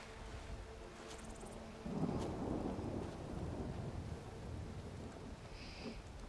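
Thunder rumbles with steady rain falling in the Skyrim video game, a low rolling storm that swells after the first couple of seconds and holds on continuously without talk.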